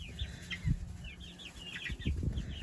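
Farm chickens cluck in short bursts close by, with light flapping and scratching around them and no voices.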